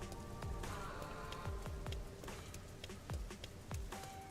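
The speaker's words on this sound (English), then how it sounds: "It's raining today too." Soft rain falls in the Rain Code game, a quiet steady patter with scattered individual drops plinking throughout.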